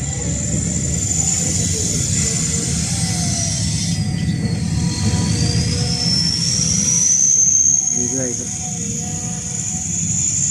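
A CAT 323GX excavator with a Perkins CAT C4.4 diesel engine runs while dredging a pond, giving a steady, loud low rumble with a sustained high whine above it throughout.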